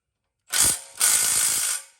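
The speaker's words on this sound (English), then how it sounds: "he's torquing up every one of them bolts to the right torque so they don't come loose" A wrench ratchets while bolts are torqued on a spreader build, two close bursts of rapid metallic clicking, a short one then a longer steady run.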